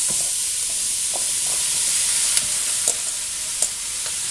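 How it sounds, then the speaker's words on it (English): Sweet potatoes going into a soup pot for southwestern sweet potato soup: a constant loud sizzling hiss with a few faint clinks and stirring knocks, close up and without talk. "We're going to add our sweet potatoes now."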